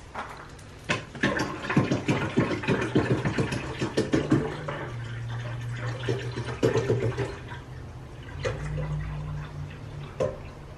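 Water runs from a kitchen tap to fill a coffee maker for hot coffee, a steady wash with clicks and knocks of handling over it, fairly close, with no talk.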